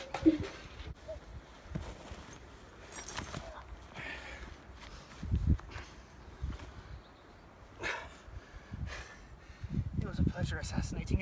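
A small horse's hooves clip-clop irregularly at close range, with people talking over and between the steps.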